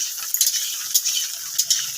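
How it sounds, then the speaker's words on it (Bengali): Potatoes frying in a pan for khichuri hiss in a continuous, bright sizzle, close and steady, with a few faint clinks from stirring and no talk. "বন্ধুরা দেখো আলু ভাজা হচ্ছে খিচুড়ির জন্য"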